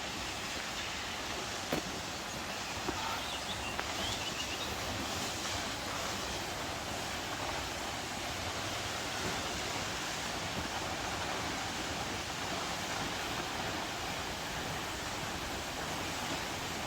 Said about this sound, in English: lovely listening to the water and the birds singing, and there's a waterfall ahead